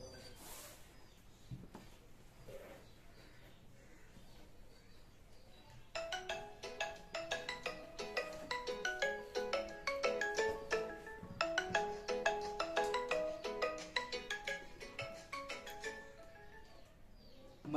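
A mobile phone rings with an incoming call. After several quiet seconds, a bright melodic ringtone starts and loops its pattern steadily until the end, fairly close and clear, with no talking.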